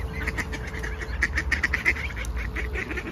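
A goose honks again and again in quick, nasal bursts, close and fairly loud over a low steady background hum, with no voices heard.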